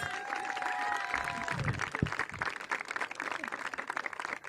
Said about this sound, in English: Let's give our commissioner a big round of applause.